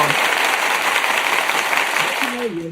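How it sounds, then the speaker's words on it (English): A burst of applause and hand claps forms a steady wash of clapping for most of the clip, then fades as a voice begins speaking near the end. "Let me get my hand claps up for that, honey"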